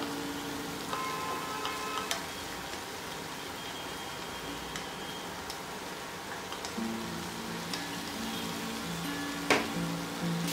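About one and a half cups of soaked quinoa go into a hot pan of sautéed vegetables for quinoa khichdi, giving a steady, close sizzle with scattered light clicks and taps, and no one talking.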